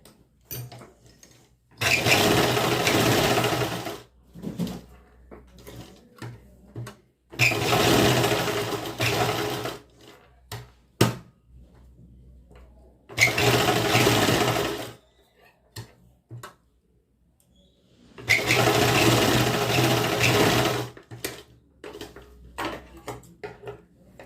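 Sewing machine basting buckram onto kurti fabric, running in four loud bursts of rapid stitching separated by quiet pauses filled with small clicks and handling noises.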